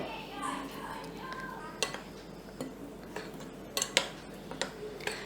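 Semolina and powdered sugar stirred together in a bowl, a spoon scraping and clinking against the sides in light, irregular taps, with faint voices in the background.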